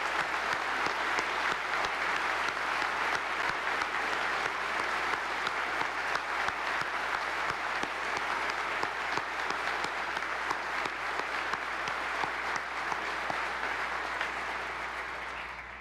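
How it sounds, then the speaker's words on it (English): Sustained applause from the audience at the 2014 State of the State Address, honoring service members, a dense steady roar of many hands clapping that holds evenly for the whole stretch before easing off at the very end. "Let's give a round of applause as our representatives for our fine men and women of the service."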